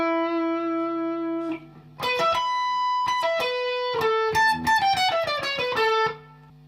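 Electric guitar plays the second line of a song's intro solo. A sustained note opens it, then a quick run of picked notes and bends follows, clean and effects-tinged, with no voice over it.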